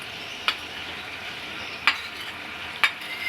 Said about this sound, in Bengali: পুরো সরষাটাই আমি দিয়ে দিচ্ছি